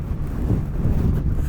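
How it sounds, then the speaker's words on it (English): Strong wind gusting across a microphone outdoors during a stormy, rainy day, a continuous low buffeting roar that rumbles and surges for the whole stretch with no voices. "as you can tell, it's a little bit windy today"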